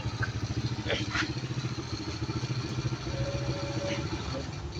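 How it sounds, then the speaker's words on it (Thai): A motorcycle engine with a carburetor runs at a steady idle, a close, even putter with a few metallic clicks and someone talking over it. "พี่ปุ้ยลองติดได้ว่าสตาร์ทนิ่มมันดีไหมครับ"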